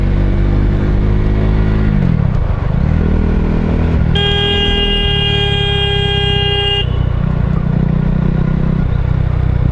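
A taxi and a motorcycle on a road as the biker tries to pass, loud engine and road roar with a sustained car horn blaring for several seconds midway.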